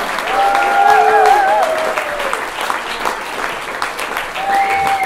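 Audience applause from a packed crowd at a Stony Brook University holiday concert, a dense sustained clatter of clapping with a few whistles that carries steadily through the whole stretch.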